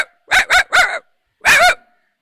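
A woman imitates a dog barking, giving three quick barks in a row, then a pause and a longer, drawn-out bark. The voice is close and loud, with no other talk.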